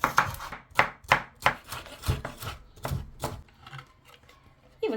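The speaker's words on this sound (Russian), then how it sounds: "Огурцы примерно граммов 300 нарезаем мелкими кубиками." A knife dices about 300 grams of cucumbers into small cubes on a board for okroshka, a quick series of close, crisp chops in an uneven rhythm that fades near the end.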